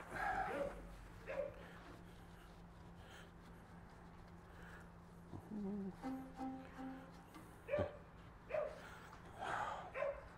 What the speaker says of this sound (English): Dog's freaking out because they're horse playing a little bit out there.